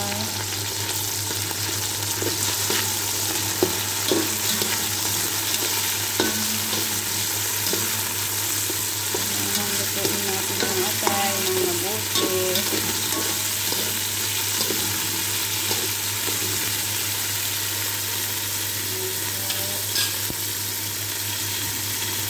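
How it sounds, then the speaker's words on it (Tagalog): Liver frying in a pan for pansit canton with bihon, a continuous close sizzle with occasional stirring scrapes and clicks over a low steady hum, with no voices. "Nilagay ko na po yung atay."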